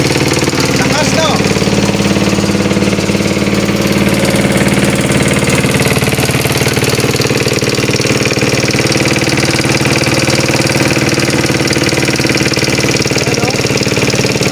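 An old rice mill dating from the Japanese era runs its engine loud and close, a dense, unbroken mechanical drone with rattling vibration that holds steady the whole time.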